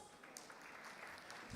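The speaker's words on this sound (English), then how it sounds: "Let's give them all a round of applause." A brief, faint round of applause from an audience at a campus placement event for guests seated on the dais, a soft continuous patter of clapping heard from a distance.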